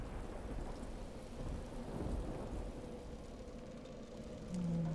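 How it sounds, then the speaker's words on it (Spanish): A rain and thunder spell in the video game Divinity Original Sin II brings a soft, steady patter of rainfall with low rumbling thunder rolling underneath. The storm sits quietly in the background, and no one speaks. "Vamos a quitar esto con un poco de lluvia."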